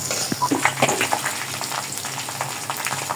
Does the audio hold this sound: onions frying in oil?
yes